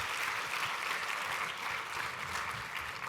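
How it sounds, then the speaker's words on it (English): Steady audience applause after a talk at a leadership event, continuous clapping from a sizable crowd heard at moderate distance, even in level throughout and without speech over it. "Let's give Kelly another round of applause, everybody."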